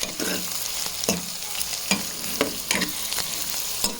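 Bitter gourd fry with curry leaves being stirred in a hot pan, a steady sizzle broken by repeated scraping strokes of a spoon roughly every half second to second, close and alone without any talk.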